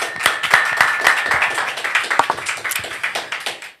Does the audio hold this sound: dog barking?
no